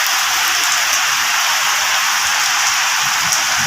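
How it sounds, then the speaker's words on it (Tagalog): Heavy tropical rain pours down in Pampanga during flooding, a loud, dense, unbroken hiss of drops pounding surfaces close by throughout. "Sobrang lakas ng ulan."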